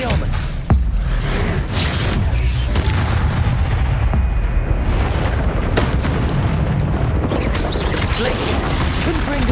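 Expelliarmus spell casting during combat in Hogwarts Legacy, set in dense, loud battle noise full of booming impacts and bursts that continues without a break.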